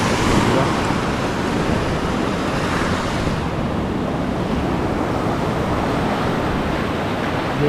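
Small ocean waves wash along a shore in steady broadband surf noise with wind buffeting the microphone, continuous and fairly loud throughout, with no distinct voices.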